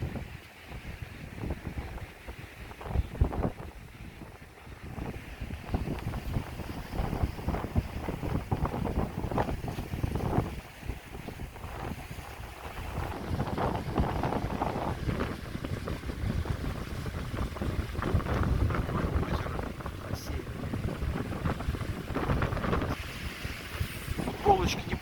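Strong wind with blowing sand buffets the microphone with a constant low roar, gusting throughout while a person talks intermittently.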